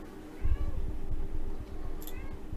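An elderly cat meows loudly in a few drawn-out cries close by, while faint talk can be heard in the background.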